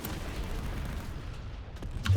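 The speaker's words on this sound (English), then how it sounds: "That was a nice VS explosion." Explosions and weapon fire rumble through a PlanetSide 2 match, a loud continuous low roar of battle noise with a couple of sharper blasts cracking in near the end.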